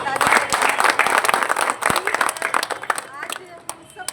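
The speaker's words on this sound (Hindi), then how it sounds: "मैं इन कलाकारों के लिए एक बार जोरदार ताली" An audience applauding performers at a school event, a burst of dense clapping that thins into scattered claps as it fades.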